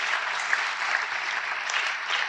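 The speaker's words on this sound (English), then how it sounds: "How about a hand clap for that?" Sustained, dense applause from a dinner audience at a North Carolina family-policy dinner in Winston-Salem, steady and loud for the whole stretch with no voices breaking through.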